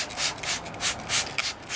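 Close, rhythmic rubbing strokes of wet sanding a Mitsubishi Evo X GSR headlight lens, a hissy back-and-forth scrape repeating several times in quick succession.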